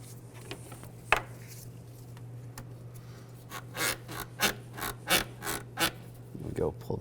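A pick pries a connector loose on a Nissan Xterra engine, producing a run of close, sharp scraping and clicking bursts against plastic, with a low steady hum underneath and a few quiet isolated clicks before.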